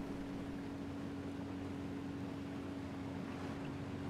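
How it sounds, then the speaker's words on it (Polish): Motorbike engine in the video game Ghost Recon Wildlands, a steady low droning hum with a constant tonal whine, running continuously and fairly loud with no talk over it. "Ten motor naprawdę nie grzeszy prędkością."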